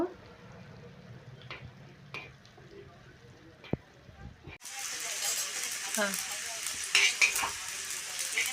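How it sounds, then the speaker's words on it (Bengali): Cumin seeds dry-roasting on a hot tawa give a soft, steady crackle and hiss after a quiet start with occasional clicks and light stirring taps. "জিরেগুলো আমি হালকা করে ভেজে নেব।"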